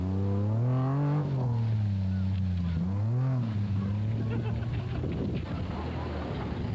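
Class D Nissan race cars driving on a race track, a steady engine drone with rising and falling pitch as they accelerate and shift, continuous and moderately loud, with a commentator's voice running over it.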